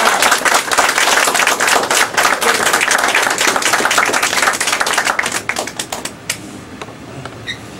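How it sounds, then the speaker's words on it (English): An audience gives a loud, dense round of applause to welcome student minister Darryl Muhammad. The clapping holds strong for several seconds, then thins to scattered claps and fades out. "Let us give him a round of applause"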